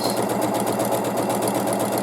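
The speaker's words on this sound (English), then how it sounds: "I have to be careful to speak between the sewing machine." A sewing machine stitches pairs of quilt squares together with a narrow foot fitted, a fast steady mechanical whirring and needle clatter, close and continuous with no talking.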